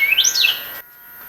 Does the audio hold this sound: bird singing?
yes